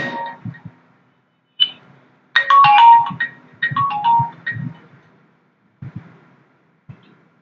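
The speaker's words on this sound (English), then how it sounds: "sorry, call came" A phone ringtone for an incoming call plays a loud, close burst of melodic electronic notes, with shorter chimes before and after and quiet pauses between.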